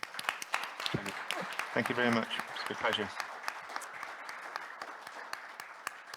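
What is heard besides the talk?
audience applause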